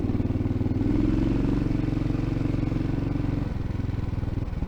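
A Trailmaster MB200 mini bike with a Predator 301 engine rides along, its close single-cylinder exhaust thumping in a rapid steady pulse with a slight rise and dip in revs.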